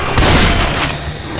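Gunfire in the video game Left 4 Dead 2, a loud booming shot at the start that leaves a rumbling, noisy tail and fades out over a second or so.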